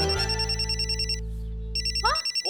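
A telephone rings indoors in a comedy scene, a repeating electronic bell tone pulsing in bursts with a short pause in the middle, loud and close over a steady low hum.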